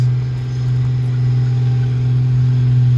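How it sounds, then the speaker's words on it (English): A heavy vehicle engine roars under load while towing a 60-ton Chieftain tank at a tank show, a loud steady low drone with slight swells in pitch, close and continuous with no talk. "listen to the roar of this engine from pulling a 60-ton Chieftain."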